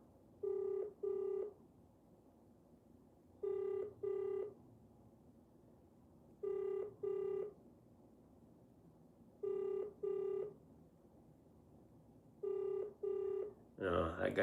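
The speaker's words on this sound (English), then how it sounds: "The phone is ringing all right" A telephone rings in repeated double-ring bursts, five pairs spaced evenly, clear and moderately loud over a faint background with no talk, a louder noise cutting in at the end.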